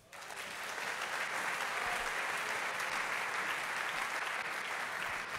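A church congregation breaks into sustained applause to acclaim the Lord, a dense wash of clapping that swells in quickly and holds steady and fairly loud throughout.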